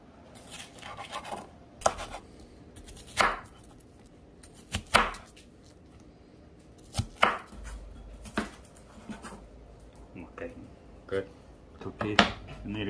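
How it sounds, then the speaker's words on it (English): An onion being chopped with a knife on a cutting board for taco night, irregular crisp thuds spaced a second or two apart over a quiet background, close and clear. "Proceed to chop that your onion"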